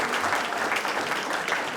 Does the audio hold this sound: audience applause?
yes